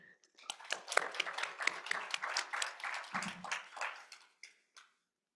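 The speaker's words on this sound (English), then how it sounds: "So please give them a round of applause" A small audience at a National Poetry Month reading gives a round of clapping, individual claps distinct and fairly close, building quickly and then tapering off to a few last claps before silence.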